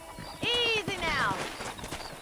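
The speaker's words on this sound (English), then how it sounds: "there's a pack of wild horses nearby" A wild horse in the open country of the video game Red Dead Redemption gives a loud, sharp whinny that falls away in pitch, with soft hoof clops and game ambience around it.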